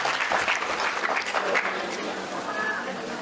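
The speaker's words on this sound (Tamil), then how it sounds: "அது பார்த்தீங்கன்னா அவருக்குன்னு ஒரு கைதட்டு வருது." An audience at a Tamil comedy debate hall claps for a speaker as he is welcomed, a sustained burst of many hands applauding from a moderate distance, easing slightly toward the end with some voices mixed in.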